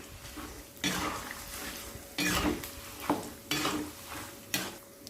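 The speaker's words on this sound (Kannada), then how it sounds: "ಒಣ ಕೊಬ್ಬರಿ ಸ್ವಲ್ಪ ಫ್ರೈ ಆಗ್ತಾ ಬರುವಾಗ ಈ ಪುಟಾಣಿ ಹಾಕ್ತೀನಿ" Dry coconut and peanuts fry in a pan under repeated stirring, heard as four or five loud scraping, rattling sweeps separated by quieter stretches of low sizzle.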